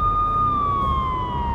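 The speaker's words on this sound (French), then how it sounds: "J'entendais le hurlement des sirènes se rapprocher." Police sirens wail steadily in the Max Payne video game, a loud, slowly falling tone with bright harmonics over a dense low rumble, filling the whole short stretch without any voices.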